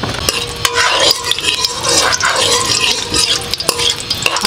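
Dried red chillies fry in hot mustard oil in a pan, a close, steady crackling sizzle with scraping stirs and a few sharp clinks of the spatula.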